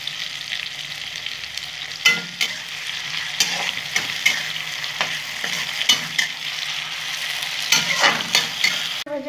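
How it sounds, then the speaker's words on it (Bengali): Onions fry with a spoonful of sugar in a pan for a chicken dish, a steady close sizzle broken by repeated scraping stirs of a spatula, with no voices. "পেঁয়াজটা আমি একটু লাল লাল করে ভেজে নেব"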